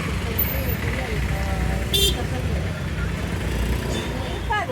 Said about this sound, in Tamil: பயங்கர டிராஃபிக்.